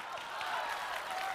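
A theatre audience breaks into steady applause for a bass singer being welcomed on stage at a televised variety show; the clapping is brief, even and fairly soft, with no voices over it.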